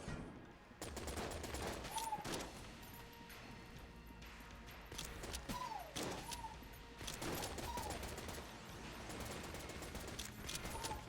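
In the video game Enter the Gungeon, a particle ball weapon fires repeatedly as bursts of rapid shots mixed with game effects and short rising electronic tones, moderately loud and spaced through the stretch.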